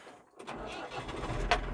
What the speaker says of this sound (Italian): accendiamo il trattore.